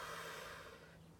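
A single soft breath through the nose during a core workout, faint and close, tapering off after about a second.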